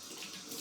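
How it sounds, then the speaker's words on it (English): Cold water runs steadily from a tap into a sink at full flow, a close, continuous, fairly loud rushing splash that holds level throughout, with no voices. "I'm gonna use some cold water now, as cold as it can be."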